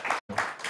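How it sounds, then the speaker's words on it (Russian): A short burst of audience applause, dense clapping that briefly cuts out before resuming. "Еще раз ваши аплодисменты."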